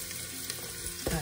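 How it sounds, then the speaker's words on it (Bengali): Browned onion and vegetables including carrot frying in a pan for a vegetable stew, a dense continuous close sizzle with a louder crackling burst of stirring at the end. "পেঁয়াজটা বেশ লাল লাল হয়ে গেছে। এবার এক এক করে এই সবজিগুলো দিয়ে দেবো।"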